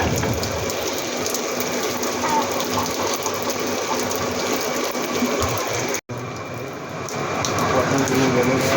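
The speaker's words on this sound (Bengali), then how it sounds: "গরম থেকে মূল্যবান প্রাণীকে রক্ষা করার জন্য কৃত্রিম বৃষ্টি বা ঝর্ণার ব্যবস্থা করা হয়েছে।" An artificial rain sprinkler sprays water over animals to protect them from heat stress. It gives a loud, steady, close hiss like heavy rain, with a brief cut-out partway through.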